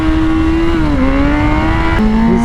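A Lamborghini Huracan Evo engine holds a loud, steady high-pitched drone on a road, dipping briefly and then shifting gear and climbing again, close and dominant with no talk.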